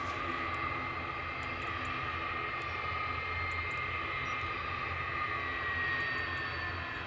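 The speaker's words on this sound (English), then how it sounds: "Big Delta on its way to New York JFK" A large Delta airliner departing Edinburgh Airport for New York JFK gives a steady, broad jet roar that holds at a constant level throughout, with a faint high whine riding on top.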